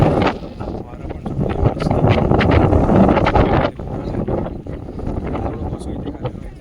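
Strong wind gusts buffet the microphone on the Raigad fort hilltop in the Sahyadri hills, a loud roaring rush that eases briefly, with muffled voices faintly underneath.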